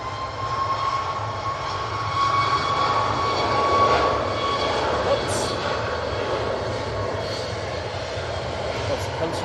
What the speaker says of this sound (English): TUI 737 MAX 8